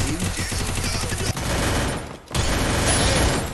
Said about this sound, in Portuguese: muita gente trocando tiro